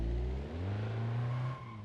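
Close up, an Opel Astra's engine revs while the car drives, its note climbing and holding before easing off near the end, with no talk over it.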